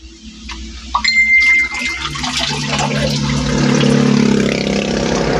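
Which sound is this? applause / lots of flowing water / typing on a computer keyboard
lots of flowing water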